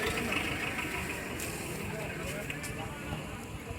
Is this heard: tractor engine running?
yes